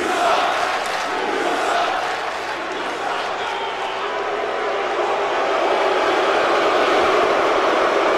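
A large video-game wrestling arena crowd in New York roars and jeers continuously, a dense wash of disapproving noise that stays loud and steady throughout, with no clear talk on top.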